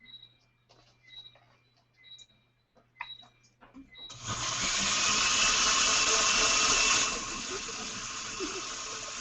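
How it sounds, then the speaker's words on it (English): A countertop blender liquefies fresh ginger with water for homemade Caribbean ginger beer, a loud steady whirring roar that starts suddenly after some quiet kitchen clatter and stays constant for several seconds before easing slightly in pitch. "Okay, so you blend that up, until it's basically liquefied."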